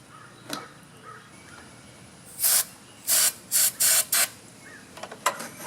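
Starting fluid sprayed into a small engine's carburetor in short hissing bursts, one longer blast followed by four quick spurts, close and fairly loud against a quiet background.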